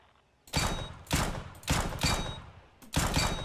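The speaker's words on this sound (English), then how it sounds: "shoot in short bursts" Gunfire at targets in the video game CS:GO, five or six sharp rifle bursts in a steady rhythm, each a loud crack with short decay, separated by brief pauses.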